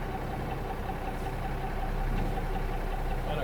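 An International Harvester winch truck engine idles in a steady, close, low mechanical rumble with no voices.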